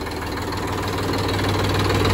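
Heavy vehicle engine idling in neutral with the clutch pressed, a steady close low rumble with a rhythmic knocking pulse, continuous and loud with no talking.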